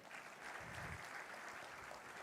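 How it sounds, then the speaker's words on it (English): Sustained applause from an audience greeting dignitaries at a university event, a dense even wash of many hands clapping throughout, with no one speaking over it. "I request all of you to kindly give a huge round of applause for our honorable dignitaries."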